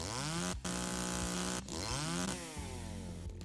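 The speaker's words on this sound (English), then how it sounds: "Let's just unlock our chainsaw" A chainsaw in a tree-chopping game, its engine whining and revving in long sustained bursts with sharp cuts between them, loud and close, and no voices.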